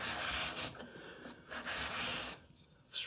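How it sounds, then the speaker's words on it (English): A card scraper shaves hard wood in steady, close rasping strokes. Each pass gives a broadband scraping burst, then a brief pause near the end. "So, this wood is hard, and you can see the shavings that are coming off."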